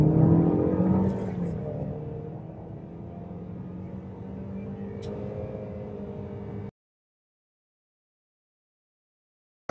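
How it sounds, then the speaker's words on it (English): A 2022 Toyota Corolla Cross XLE is floored from 0 to 60 on a road with a dip, heard from inside as a steady engine and road roar that climbs, then cuts off abruptly. "this is just going to be a quick 0 to 60 test"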